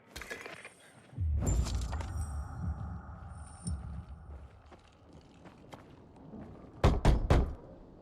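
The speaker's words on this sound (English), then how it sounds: "Knock on some doors." Knocking on a door in the video game Dying Light 2, a few firm knocks heard over a low humming game ambience, with heavier thuds near the start and a final burst of raps toward the end.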